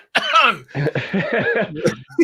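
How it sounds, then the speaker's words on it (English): A short, harsh cough followed by raspy throat-clearing and rough, broken vocal noises, close and loud. "I was just coughing."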